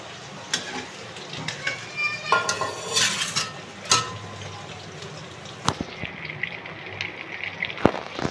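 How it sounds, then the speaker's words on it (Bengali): Pointed gourd pieces frying in a pan as they are turned one by one, with scattered scrapes and clinks of a utensil against the pan over a soft, steady sizzle. "দেখো এক পিঠ ভাজা হয়ে গেছে, উল্টে দিচ্ছি একটা একটা করে।"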